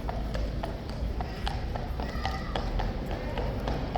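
A King's Guard cavalry horse walking on pavement, its hooves giving repeated sharp clip-clop strikes over steady crowd and street noise, fairly close and fairly loud.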